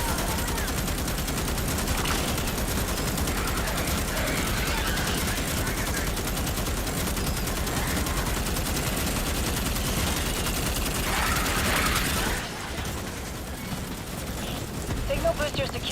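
Sustained rapid gunfire from squad weapons in the sci-fi shooter Starship Troopers: Extermination, dense and continuous for most of the stretch before thinning out, with a person talking throughout.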